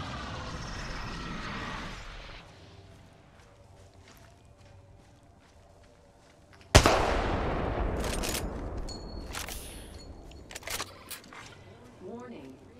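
An Apex Legends match: a loud close gunshot lands after quiet ambient game sound, then more shots and clattering effects, with voices talking over the action.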